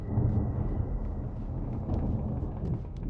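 Thunder from a storm in the video game Alan Wake, a dense, low continuous rumble that rolls on steadily throughout without clear breaks.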